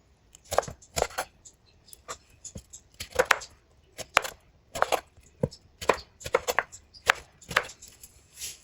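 A knife chops through orange peels on a cutting board, making a quick series of crisp, close cuts in bursts with short pauses between them, no voices.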